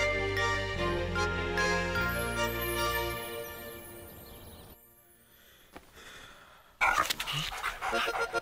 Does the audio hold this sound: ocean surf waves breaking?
no